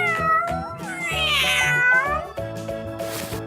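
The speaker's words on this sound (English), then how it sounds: "This is a cat." A cat gives a drawn-out, wavering meow, loud and close, over soft background music.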